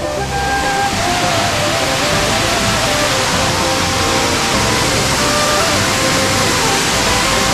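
A hidden waterfall in a village, its broad steady roar of falling water filling the scene loudly and continuously, with no break.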